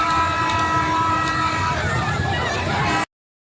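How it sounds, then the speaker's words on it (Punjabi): A small fairground ride train at a Hola Mohalla fair rumbles along with a steady mechanical drone and clatter, busy fair noise around it, cutting off abruptly. "ਇਹ ਰੇਲ ਗੱਡੀ ਫੇਰ ਸ਼ੁਰੂ ਹੋ ਗਈ ਹੈ"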